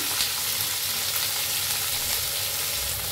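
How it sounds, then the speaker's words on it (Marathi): Slit green chillies roast in a little hot oil in an iron kadhai. A close, even crackling sizzle runs without pause for the whole stretch, with faint stirring and no talking. "आता मिरच्यांना डाग पडूस तर भाजून घेऊया आपण।"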